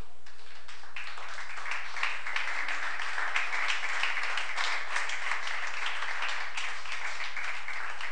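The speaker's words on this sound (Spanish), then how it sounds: "Dale un aplauso al que vive." A church congregation gives sustained applause after a sermon prayer, a dense, even wash of many hands clapping at moderate distance for about seven seconds, with no speech over it.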